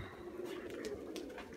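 Pigeons cooing softly at moderate distance, a steady low murmur of overlapping coos lasting throughout, with no talk over it.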